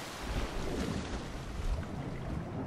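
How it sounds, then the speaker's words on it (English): Continuous low rushing water ambience at nighttime in the video game Subnautica, a steady, faint surging wash like waves and wind with no distinct events. "Sounds like a lot of water."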